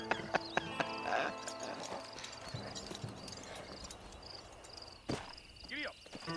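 Horse hooves clip-clop in the western game Red Dead Redemption: a quick run of distinct hoofbeats, then quieter steps over a bed of chirping crickets, with a brief whinny-like sound near the end.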